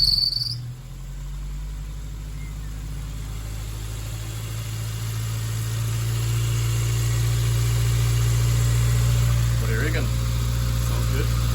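A Toyota AE86 with a 4A-GE engine, fitted with adjustable cam gears, starts for the first time and settles into a steady, low idle, with a constant high whine above the engine drone.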